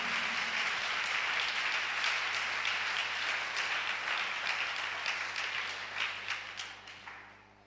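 A church congregation applauds during a worship service, with steady, moderately loud clapping that carries some rhythmic pulses and tapers off toward the end.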